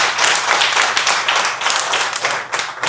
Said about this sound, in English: How about a round of applause for Intel?